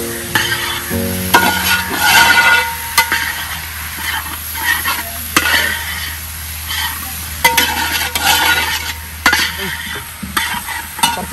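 Duck pieces hit a hot pan for Kerala-style tharavu varattiyathu, sizzling and frying loudly while a utensil scrapes and stirs in repeated knocks and clinks against the pan, no speech.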